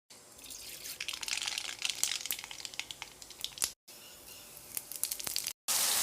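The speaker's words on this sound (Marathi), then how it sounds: "वांगी तळून घ्यायची आहेत" Whole slit eggplants fry in hot oil, giving a continuous hiss with crackles. Short gaps break the sizzle near the end.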